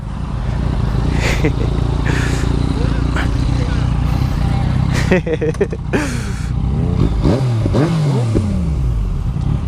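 A 2014 Yamaha MT-09 motorcycle with a full Akrapovic exhaust idles loudly and close, then blips and revs with rising and falling engine pitch, under intermittent talk from the rider.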